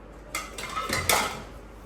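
Dishes, plates and bowls clatter together in a home kitchen, with a few close, bright clinks and scrapes bunched in the middle of the clip and no talking.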